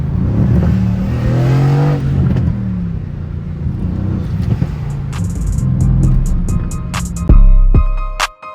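A Mercedes 63 sits parked at a Formula Drift car meet in downtown Long Beach with race mode engaged, rumbling at idle and then snapping through several sharp, loud revs in quick bursts toward the end.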